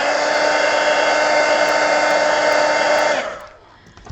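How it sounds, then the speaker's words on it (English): A heat gun drying watercolor paint on a coloring book page, a loud steady whirring blower hum that runs continuously for about three seconds, then cuts off and spins down. "Let me hit it with the heat gun."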